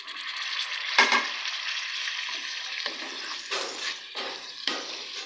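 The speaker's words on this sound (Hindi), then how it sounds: "टमाटरों को अच्छी तरह से चिकन में मिक्स करेंगे" Two medium tomatoes sizzle in a pan of frying chicken masala while being stirred, a steady hiss broken by repeated scraping sweeps of the spoon, close and clear with no talking.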